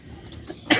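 A child gives a single sharp cough near the end after a quiet moment, close and fairly loud.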